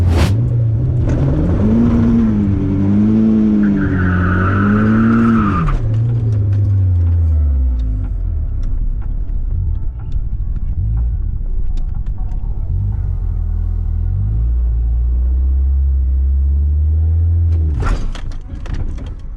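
A car at a drag strip attempting a launch on a grippy track with too few revs: loud engine rumble with a rising rev, then a sustained droning pull at steady pitch, heard from outside the car.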